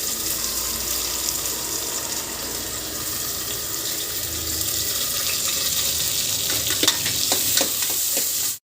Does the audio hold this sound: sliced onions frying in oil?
yes